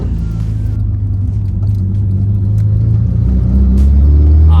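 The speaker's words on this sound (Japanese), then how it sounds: "いいなやっぱりって思ってターボが音がいい。" A Nissan S15 Silvia kaido racer with a turbocharged SR engine drives along, its steady low rumble loud and continuous from inside the cabin, rising slightly toward the end.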